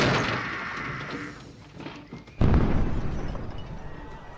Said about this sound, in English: That is a big bang fit for a bad man.